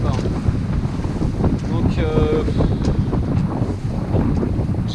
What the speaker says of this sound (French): Là ça y est, il y a du vent